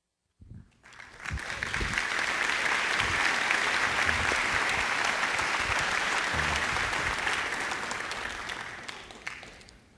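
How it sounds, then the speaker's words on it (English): Audience applause fills a Rebuild the Dream roadshow event in New York City: a loud, dense, sustained wash of clapping from a large crowd that starts abruptly, holds steady for about nine seconds, then tapers off. "Let's give another round of applause"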